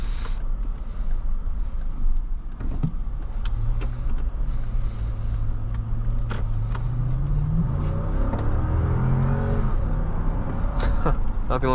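A 2019 Lexus GX 460 V8 engine hums steadily from inside the cabin, a low rumble that rises in pitch as it accelerates, with a person speaking over it and occasional clicks and rattles.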